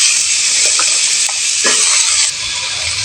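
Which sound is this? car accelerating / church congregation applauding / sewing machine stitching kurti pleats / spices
spices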